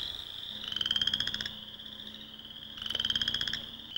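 A male chorus frog calls at night in two long, loud trilled bursts of rapid pulses, each lasting under a second, separated by a pause, standing alone and close.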